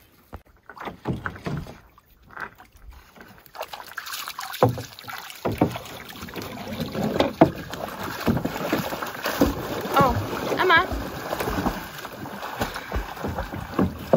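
A canoe glides on an Algonquin Park lake, with paddle strokes and water sloshing against the hull under gusty wind buffeting, close and fairly loud, with a voice faintly present at times.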